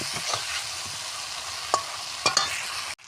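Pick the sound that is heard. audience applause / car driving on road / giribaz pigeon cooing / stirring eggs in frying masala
stirring eggs in frying masala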